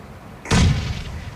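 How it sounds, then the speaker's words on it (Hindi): Frag grenade explodes in PUBG on the Erangal map, a single sudden loud blast with a booming low body that decays over about a second. "इस दफा तू फ्रैग ग्रेनेड फाड़ रहा है"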